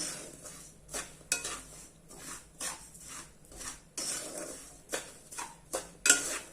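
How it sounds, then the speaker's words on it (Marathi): Peanuts roast in a pan over a medium gas flame while a utensil stirs them, making repeated scraping and rattling strokes in an uneven rhythm, with faint sizzling underneath. "शेंगदाणे असे मिडियम गॅसवर केल्यामुळे काय होतं शेंगदाणे असे छान असे भाजले जातात"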